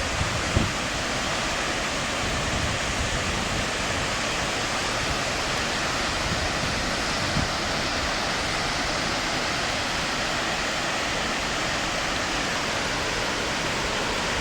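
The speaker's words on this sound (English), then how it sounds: "That was some powerful waterfall through there." The flooded Clutha River (Molyneux) in New Zealand pours through its dam spillways in a powerful roar, a loud, steady, dense rush of falling water that holds unbroken and close throughout, with no speech.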